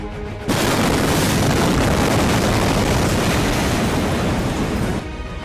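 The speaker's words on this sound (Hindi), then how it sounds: "और तभी एक बड़ा धमाका हो गया।" Large explosion in Beirut caught on a dashcam, a sudden massive roaring blast that starts abruptly and holds as a dense, loud rumble for several seconds before dropping off.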